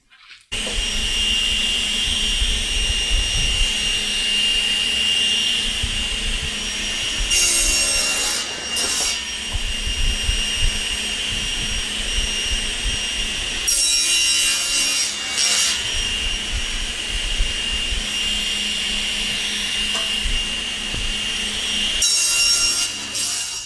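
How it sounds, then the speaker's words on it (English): Plywood strips being sawn into lengths, a steady loud rasping cut running nearly continuously with a few brief pauses and bursts between strokes. "So now we just cut the plywood, measure twice."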